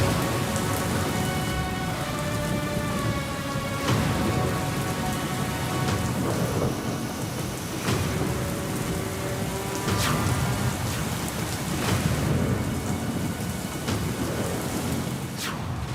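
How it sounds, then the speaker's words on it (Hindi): Heavy monsoon downpour pounds steadily and loudly on surfaces, with repeated thunder cracks and rumbles breaking through across the whole stretch and no voices. "मॉनसून का प्रचंड प्रहार, आधे हिंदुस्तान में मूसलाधार।"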